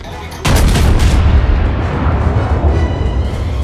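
A German tier 7 premium battleship, sister of the Bismarck, fires its guns in a naval game: a sudden heavy boom that rolls into a long, loud, rumbling roar and slowly fades.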